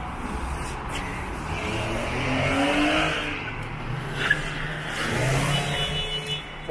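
A police car speeds past on a New York street at night during rioting, its engine swelling as it approaches and then fading, with a brief squeal near the end and no talk.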